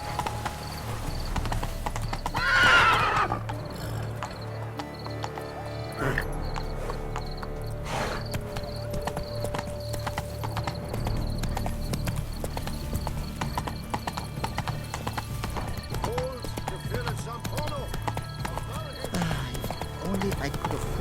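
In The Witcher 3, horse hooves clip-clop rhythmically throughout, with a loud neigh near the start, while voices talk over the scene.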